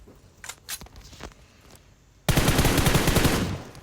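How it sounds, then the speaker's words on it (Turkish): Gunfire in the mobile game PUBG Mobile: a few scattered light clicks and taps, then a loud, sustained burst of rapid automatic fire that runs to the end without pause. "10 mermi atmadım 20 mermi attım ama yani mermilerimiz biraz daha düz gidiyor."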